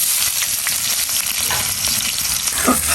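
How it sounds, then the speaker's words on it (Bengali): Onions and cumin seeds sizzle steadily in hot oil in a pan, a dense crackling hiss with a few scraping stirs, loud and close, with no talking. "পেঁয়াজটাকে একটু ভাজা ভাজা হোক"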